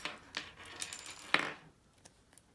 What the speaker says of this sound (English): And then I can take my scissors. I can snip off these edges.